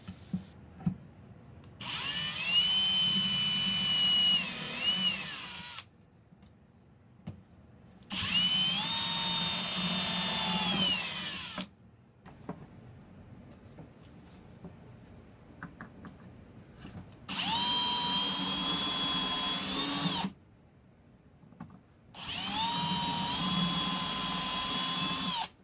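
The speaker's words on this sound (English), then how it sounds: "drill the 2 pilot holes for the drawer slide screws" A power drill bores pilot holes for Blum concealed drawer slide screws through a drilling template, four whining bursts of a few seconds each separated by quiet pauses.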